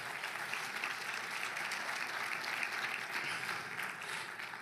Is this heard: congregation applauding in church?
yes